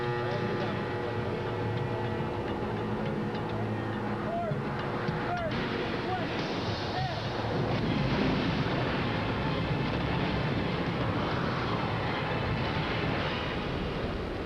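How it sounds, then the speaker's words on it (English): A train pulling away on a movie stunt set, a loud continuous rumble of rail wheels and machinery with several short whistle-like squeals early on and the noise swelling slightly as it gets moving. "when I push this lever over this way, that train sitting up there is going to take off"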